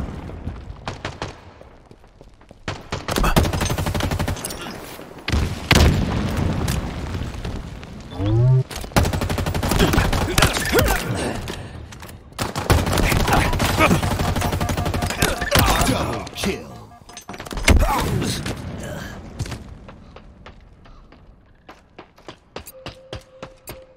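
Gunfire in Halo Infinite during a multiplayer match, bursts of automatic fire and single shots crackling loudly and repeatedly across the whole stretch, with game voices and effects mixed in.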